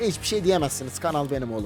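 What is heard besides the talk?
No everyday noises stand out.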